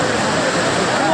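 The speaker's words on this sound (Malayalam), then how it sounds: "നല്ല ഒഴുക്കുണ്ട്, വെള്ളത്തിന് നല്ല ഒഴുക്കാം" Strong river current at TK Colony, Nilambur in Kerala, heard as a loud, dense, steady rush of flowing water filling the whole moment, close by.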